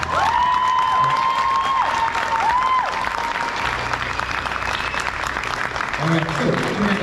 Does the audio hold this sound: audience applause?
yes